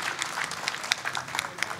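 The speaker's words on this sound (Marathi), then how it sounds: "तर निलेशजींच्या कवितेसाठी एकदा जोरदार टाळ्या वाजवा अशी मी तुम्हाला विनंती करतो." A poetry-recital crowd at a Marathi kavi sammelan claps for a poet's poem. Individual claps stand out within a moderate, steady round of applause, with no talking over it.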